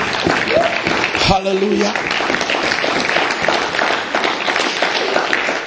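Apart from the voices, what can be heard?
congregation applauding in church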